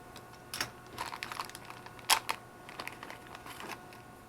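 Plastic packaging holding spare standard-size ZMR quadcopter arms is opened up close, giving a string of quiet crinkles, clicks and rustles with one sharper tearing burst in the middle.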